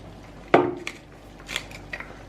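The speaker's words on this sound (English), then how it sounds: "That was the sound of the spoon hitting the top there." A spoon strikes the top of a pot of minestrone soup with one sharp, bright metallic clink, followed by a few fainter clinks and scrapes in a quiet kitchen.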